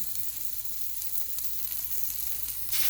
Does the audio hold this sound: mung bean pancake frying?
yes